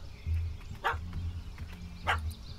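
A dog barks in The Witcher 3 game, two sharp barks about a second apart over low rumbling growls, fairly close and loud.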